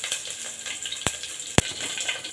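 Dried red chilies and cumin seeds fry in hot oil for a sambar tempering, giving a steady close hiss broken by two sharp pops.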